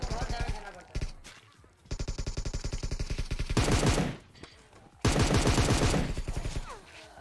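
Rapid automatic gunfire in PUBG Mobile rattles in dense bursts, with loud volleys near the middle and end, and someone shouts excitedly between them.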